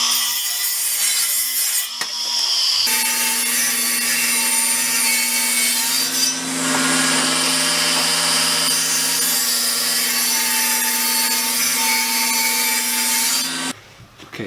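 A saw cuts steadily through a wooden 2x8 board being shaped into flag stripes, a loud continuous rasping drone with a couple of brief pauses and an abrupt stop near the end, with no talking.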